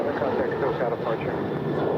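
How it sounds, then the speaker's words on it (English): United Boeing 737-900ER, eight years old, departing LAX for Chicago O'Hare; a steady, broad jet engine roar, loud and continuous for the whole stretch. "And off to Chicago O'Hare, it's United 1897. It's an 8-year-old 737-900 ER."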